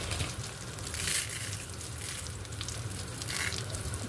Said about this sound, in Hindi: सेवइयों की अच्छे से करेंगे हम भुनाई देसी घी में